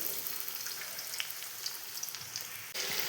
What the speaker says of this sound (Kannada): ಈಗ ಎಣ್ಣೆ ಕಾದಿದೆ ನೋಡಿ ಫ್ರೆಂಡ್ಸ್. ಅದಕ್ಕೆ ಈಗ ಈರುಳ್ಳಿ ಹಾಕಿಬೇಕು ನೋಡಿ